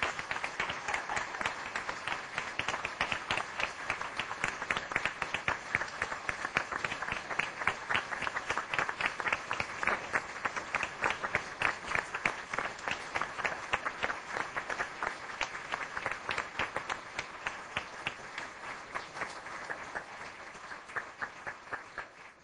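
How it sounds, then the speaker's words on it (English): Audience at a community panel event applauding the panelists, a long, steady burst of many hands clapping, building quickly and then slowly thinning toward the end. "So a round of applause for all our panelists."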